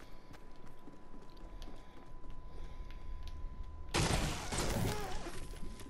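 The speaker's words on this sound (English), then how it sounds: "I hear shotguns, but they're off in the distance east or west of us" Distant shotgun blasts in a Fortnite match, a burst of sharp reports arriving late in the clip over steady background game noise.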